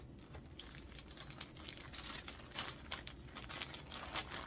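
Paper being folded back by hand, a run of soft crinkling and crisp rustles in quick irregular bursts, close and fairly quiet, with no talking.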